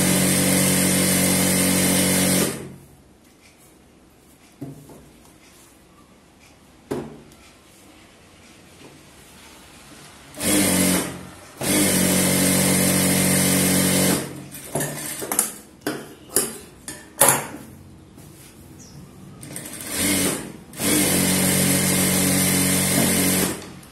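A sewing machine stitches blouse lining in several long bursts of fast, loud whirring, separated by quiet pauses with small clicks and handling of fabric.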